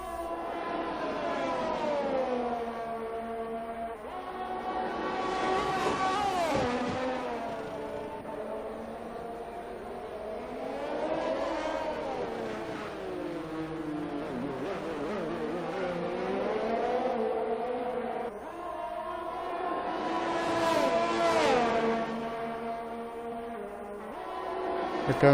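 Race cars in a sim racing event at Abu Dhabi, with engines rising and falling in long whining sweeps as the cars pass and shift. The cars sound fairly close, with a faint voice underneath.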